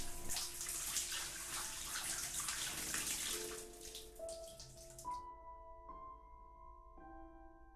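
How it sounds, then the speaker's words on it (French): In an unsettling video game, flowers are watered with about five seconds of splashing, pouring water, followed by a series of soft, sustained melodic chime tones. "Arrosons nos chères fleurs."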